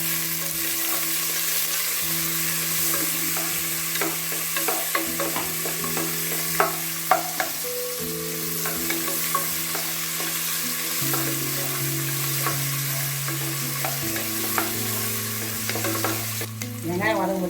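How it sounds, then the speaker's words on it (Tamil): Sliced onions and green chillies sizzle and fry in an oil-filled pan, a continuous bright crackling hiss punctuated by scraping stirs and clinks of a spoon, with a steady background tone and no talking. "வெங்காயம் நல்லா கோல்டன் அதில் வர வரைக்கும் நல்லா வதக்கணும்."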